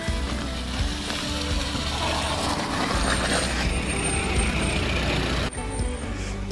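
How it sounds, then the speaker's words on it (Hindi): A vehicle reversing on a snow-covered road at Jalori Pass in Himachal during snowfall, giving a steady, loud engine rumble with a hiss like an air brake, running throughout with a brief dip near the end. "और भैया भी गाड़ी पीछे लेके आ रहे"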